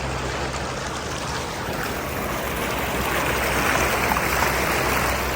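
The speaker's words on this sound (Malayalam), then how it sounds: "നല്ല അടിപൊളി അരുവിയാണ്." A flowing stream near Medina, Saudi Arabia, gives a steady, dense rush of moving water, close and even throughout with no voices.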